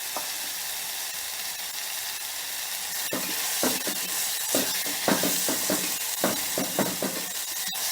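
Mint (pudina) leaves fry in oil in a pan, a steady loud sizzle running throughout, with stirring scrapes and clatters coming in irregular bursts in the second half.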